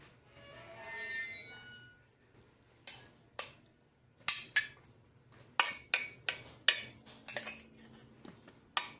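Metal utensils clink and scrape against a pan while bagoong is stirred into a dish with kamote, in a series of sharp, irregular clatters that grow busier toward the end, close by and with no talk.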